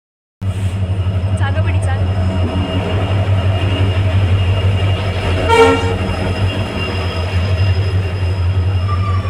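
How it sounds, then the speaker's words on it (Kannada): A Vande Bharat train passes a station platform with a loud, continuous rolling rumble and brief horn toots partway through, while people talk nearby. "ಸೊ ಇದು ವಂದೇ ಭಾರತ್ ಟ್ರೈನು."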